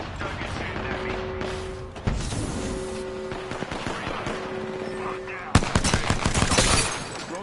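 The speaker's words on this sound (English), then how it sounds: "Target shooting at me." Rapid automatic gunfire in the video game Apex Legends, sustained bursts with a sharp louder volley near the end, mixed with in-game effects and a steady tonal hum.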